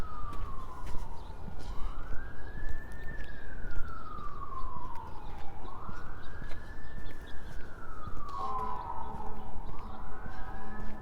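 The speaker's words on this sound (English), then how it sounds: "I think that's a fire engine." A fire engine siren wails in long, slow rising and falling sweeps, fairly distant but clear over a steady background rumble, outdoors in Regina in winter.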